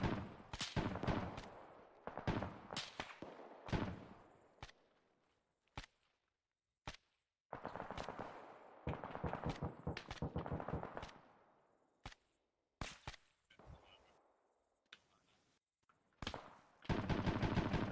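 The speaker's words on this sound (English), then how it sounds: "Shots coming in." Bursts of incoming gunfire in a military video game, sharp cracks and rapid machine-gun volleys arriving in irregular clusters with quiet gaps between, loud and close.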